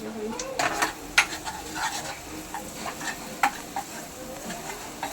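Spices crackle in hot oil as tempering is made for amti in a home kitchen: a soft continuous sizzle broken by sharp clinks and scrapes of a spoon against the pan, close and moderately quiet.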